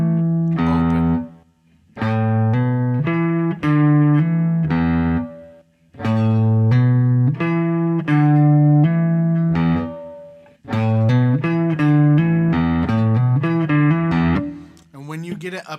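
Electric guitar with distortion plays a lick built on hammer-ons, repeated several times in short phrases separated by brief pauses, loud and close.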